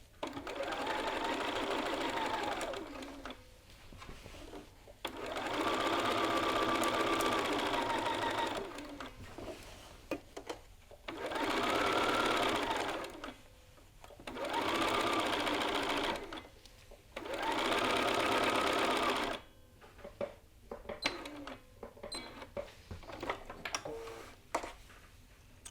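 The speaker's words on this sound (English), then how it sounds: "slide our shirt under the foot and sew along the inside neck" A sewing machine stitches along the inside neck of a shirt yoke in four long runs of steady rapid whirring, each separated by short pauses with soft handling clicks and rustles.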